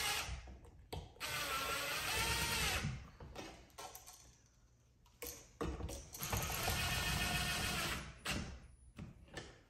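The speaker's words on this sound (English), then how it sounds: "And now all you're gonna do is put your screws in." Cordless drill driving screws into a 4 square electrical box extension in a commercial install, two loud whirring bursts with ratcheting clicks, separated by quieter handling noise.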